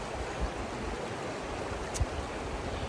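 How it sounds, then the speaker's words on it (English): Steady rush of the Cimarron River running high and off-colored in the Uncompahgre Wilderness, a dense continuous wash of flowing water with a couple of brief low knocks, no voices. "I am on the Cimarron River in the Uncompahgre Wilderness."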